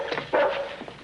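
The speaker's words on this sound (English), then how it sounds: "Would you keep your dog quiet?" A dog barks in short bursts on a cold night outdoors, one strong yelping bark standing out among softer whimpering yips, moderately loud and fairly close.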